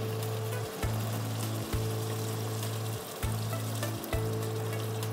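Beef fries in oil as liquid milk is poured in, producing a steady, loud sizzle with a few sudden surges where the liquid hits the hot pan, and faint bubbling beneath.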